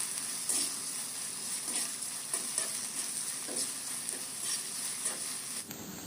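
Onion, garlic and green chillies fry in hot oil with a constant close sizzle, broken by the soft scrape of a stirring spoon at irregular intervals.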